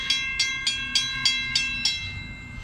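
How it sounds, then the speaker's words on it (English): A railroad crossing bell clangs in regular, fairly quick strokes near the tracks as a train comes through, with a soft low rumble beneath the ringing and no voices. "Okay, here comes this train."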